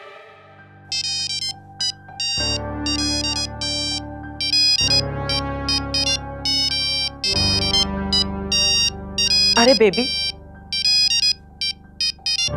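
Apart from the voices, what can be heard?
phone ringtone, incoming call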